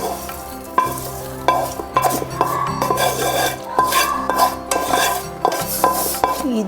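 Pieces of bitter gourd being stirred and fried in a pan, with a steady sizzle under repeated scraping and clanking of a metal spoon against the pan, close and fairly loud, with no talk.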